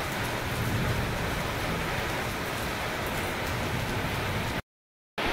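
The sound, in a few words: rain falling with thunder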